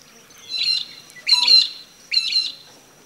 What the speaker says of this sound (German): Peewee ruft der schwarz-weiße Vogel und Peewee wird er deshalb genannt.